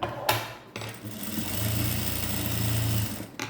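A sewing machine stitches the back panel of a blouse, its motor whirring in a steady close run for about two seconds after a few short starts and clunks.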